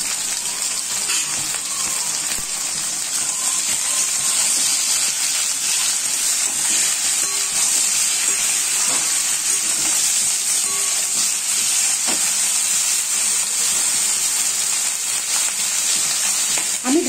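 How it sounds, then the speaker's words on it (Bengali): Diced medium eggplant is added to lightly fried potatoes in a pan on medium heat for a Bengali side dish, producing a loud, steady hiss and sizzle of hot oil that runs unbroken throughout. "আলুটা আমাদের হালকা ভাজা হয়ে গেছে, এবার আমি এতে বেগুন অ্যাড করছি"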